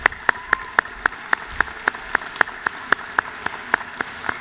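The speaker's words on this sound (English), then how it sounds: "Let's applaud the Engineering and Information Technology graduates" Commencement crowd applauding engineering and information technology graduates at a university ceremony, a steady run of distinct, evenly spaced claps that sound like a small or sparse group, fairly close and without talk.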